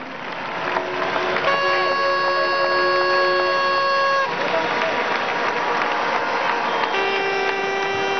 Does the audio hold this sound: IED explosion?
no